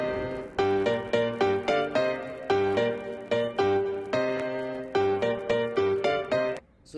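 A piano sample treated with RC20 and Vinyl Strip to sound like an old record, repeating chord stabs in a steady rhythmic pattern, dry and upfront, with a brief dip near the end.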